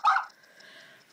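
A single short dog bark, close and fairly loud, followed by a faint fading tail and quiet.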